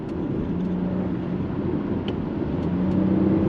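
A MINI Countryman PHEV plug-in hybrid, 165 kW and 385 Nm, accelerates with a steady low engine and road hum heard from inside the cabin, fairly constant and gently rising, with no talking.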